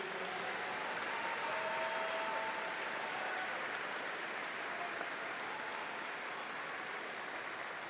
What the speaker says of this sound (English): How about a round of applause for today's re-enlisters?